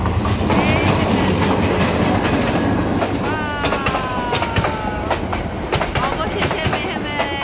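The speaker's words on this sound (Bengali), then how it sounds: "ট্রেন আসতেছে।" A train passing at night, with loud steady rumble and clickety-clack of wheels, metallic squealing streaks and rhythmic clatter of railcars throughout, voices talking faintly beneath.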